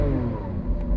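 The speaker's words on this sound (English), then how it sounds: "I'm going to rev this up." A Lamborghini Aventador Ultimate engine revs hard, a brief loud, dense mechanical roar held close and alone.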